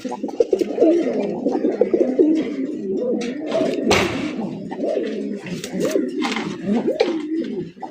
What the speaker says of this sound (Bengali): কবুতর দেখেন ভাই অস্থির লেভেলের কবুতর